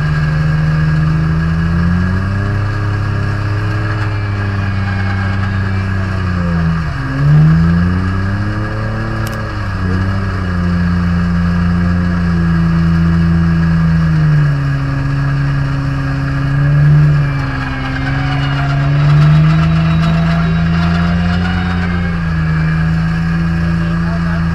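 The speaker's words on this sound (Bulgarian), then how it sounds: "Много газ дава, по-малко газ." A car engine drones steadily with low throttle changes, swelling and dipping in pitch a few times as it is revved, loud and close, while people talk faintly in the background.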